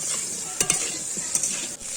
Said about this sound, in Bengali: ফুলকপিটা ভালো করে ধুয়ে নেওয়ার পরে এখানে আমি ভেজে নিচ্ছি